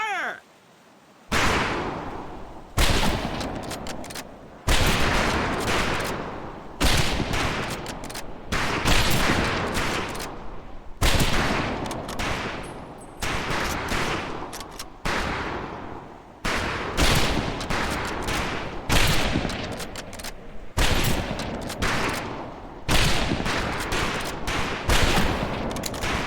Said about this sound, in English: Stand by, targets. Fire!